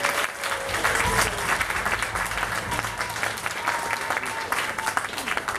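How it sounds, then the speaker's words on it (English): Audience at a police band concert applauds the band's new conductor, a full, steady wash of clapping from many hands with a few faint voices and a low rumble underneath. "A round of applause is due to him."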